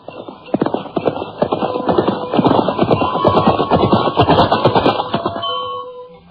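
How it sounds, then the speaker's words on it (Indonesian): Horses are ridden away at a steady pace in an audio drama, their hooves clip-clopping loud and close in a rapid, continuous rhythm that eases slightly near the end. "Arya Kamandanu dan Sakawuni berkuda meninggalkan puncak Bukit Panampihan"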